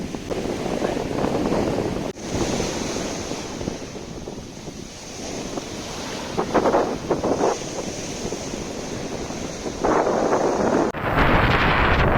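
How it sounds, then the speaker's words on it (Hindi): Sea waves roll and crash at a beach near Somnath, a continuous loud surf wash mixed with strong wind buffeting the microphone. "समुद्र के बीच का आनंद लेते हुए देखिए।"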